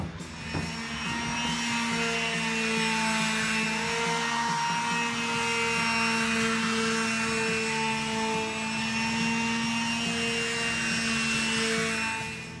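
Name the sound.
power sanding a wooden corner post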